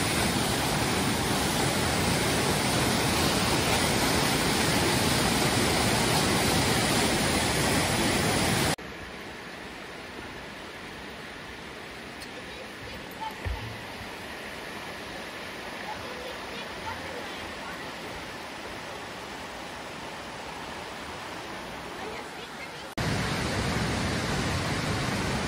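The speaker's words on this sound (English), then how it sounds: "Love these falls in the spring with all the water." BX Falls waterfall in full spring flow gives a steady, broad roar of rushing water, loud at first, then duller and quieter for a long stretch, then loud again; no one speaks.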